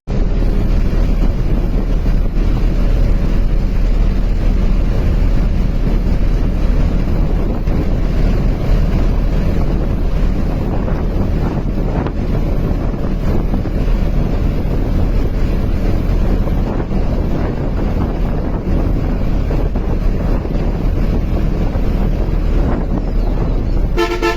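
A Mercedes-Benz coach engine runs in a continuous low rumbling drone heard from inside the bus, loud and steady throughout, with broad wind-like road noise over it and no talk.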